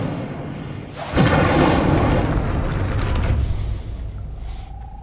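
The Incendio fire spell cast in Hogwarts Legacy: a sudden whooshing burst of flame that flares loudly, roars steadily for a couple of seconds, then fades, followed by a faint tonal chime.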